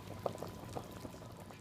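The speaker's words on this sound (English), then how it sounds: "Bubbling away." Chicken for noodle soup simmers in a boiling pot, giving a soft, steady bubbling with scattered small pops, close and low in level.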